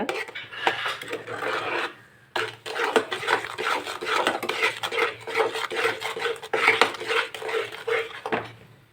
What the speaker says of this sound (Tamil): இப்போ நெய் கூட இப்படி கலந்து விட்டுட்டு நம்ம எடுத்து வச்சுருக்க சுகர் அதில் போட்டுடலாம் கைவிடாமல் கிளறிட்டே இருங்க